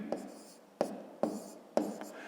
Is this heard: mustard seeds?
no